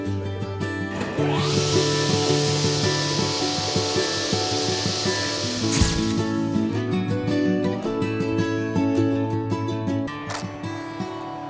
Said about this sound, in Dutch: mag je de zaag aanzetten?